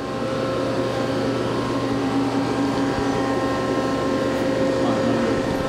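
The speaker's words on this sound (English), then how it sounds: "Now we're gonna run the sub spindle." On a Hardinge Conquest T-42 big bore CNC slant bed lathe, the sub spindle turns at 500 RPM with a steady, even hum and faint tonal whine that stays level throughout, close by and without pauses.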